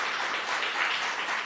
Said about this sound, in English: Let's give the whole Hatch family a round of applause.